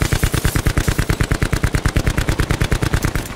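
Rapid automatic gunfire from Call of Duty Black Ops Blackout rattles out in a loud, even burst of close shots that runs the full length without pause.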